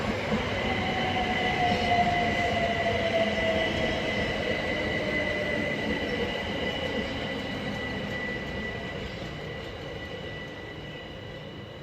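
Class 375 electric train 375627 rolls through Newington station with a loud, steady rumble of wheels on rail and a faint rising whine, fading only slightly over the pass, close to the track, with no voices.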